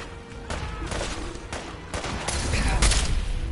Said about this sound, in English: I'm gonna shoot that frag mine.